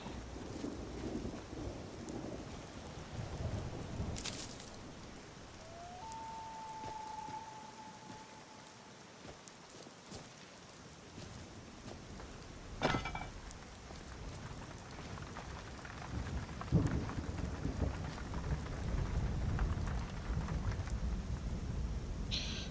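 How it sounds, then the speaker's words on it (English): Steady rain hisses throughout in Skyrim Special Edition while thunder rumbles and cracks several times, with one sharp close clap and a brief high tone partway through. "why does it ever stop raining?"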